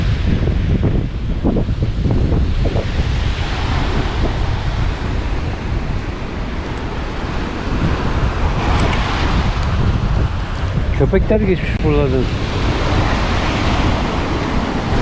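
Constant gusting wind buffets the microphone over the rumble and wash of sea waves, with a brief spoken remark partway through.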